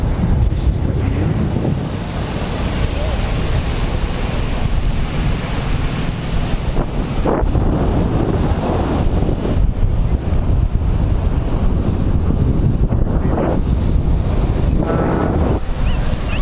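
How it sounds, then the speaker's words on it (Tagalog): Loud, continuous crash and wash of surf on a windy day in the Philippine countryside, with strong wind buffeting the microphone throughout, a steady roar with no pauses. "Yung alon is medyo malakas kasi talagang mahangin ngayon."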